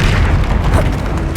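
Confringo blasting spell explosions in Hogwarts Legacy, a loud continuous booming roar with dense low rumble filling the whole moment, close and overpowering.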